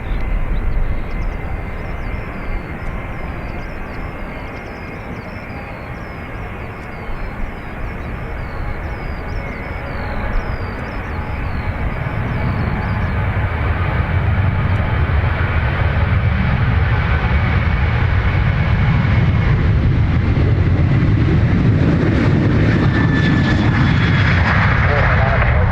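An aircraft on the north runway at Dublin Airport, a distant engine whine building into a loud, steady roar that swells toward the end, with people talking over it.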